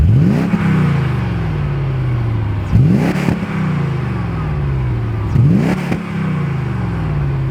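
A Mercedes C43 AMG engine with a fairly quiet exhaust is blipped three times at close range, each sharp rev rising quickly and then winding down before the next, roughly evenly spaced.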